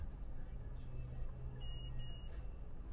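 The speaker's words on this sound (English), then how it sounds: "you heard that 2 beeps. That's confirming the bypass is engaged." A Lexus RX confirms an engaged video bypass with two short electronic beeps in quick succession. They are faint and high, over a low, steady engine hum inside the cabin.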